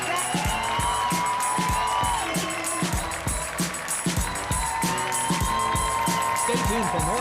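A comedy club audience at Gotham Comedy Club in New York City applauds and cheers loudly and steadily throughout, dense clapping with whoops mixed in, with what sounds like a voice or music over the top.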